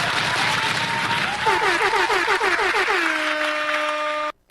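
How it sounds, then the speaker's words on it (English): A podcast studio audience gives loud, steady applause mixed with crowd noise, while a rising and falling electronic tone sweeps through it, before everything cuts off abruptly. "Another round of applause."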